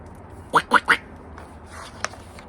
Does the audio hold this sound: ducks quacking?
yes